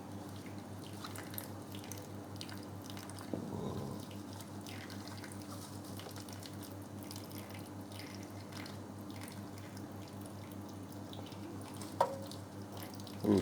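Water poured from a container into small cups of pepper plants in soil, a quiet, steady trickle with a few faint drips and splashes near the end.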